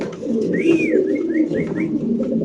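Pigeons at a pigeon farm coo close by, a rising and falling call followed by several shorter repeated coos, over a constant murmur of background birds.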